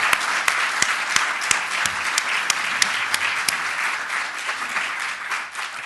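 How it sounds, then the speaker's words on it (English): An indoor lecture audience applauding, dense sustained clapping from many hands with sharper individual claps standing out, steady and fairly loud throughout. "How about a round of applause for President Bruininks and David Madson?"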